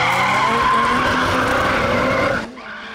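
Rally cars at an auto championship skid loudly and close, with tyres squealing over a steady engine roar that cuts off sharply near the end.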